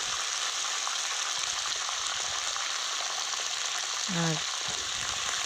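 Flat beans and their seeds frying in oil, stirred in a pan: a continuous, moderately loud close sizzle with a brief utensil scrape near the end and no talk.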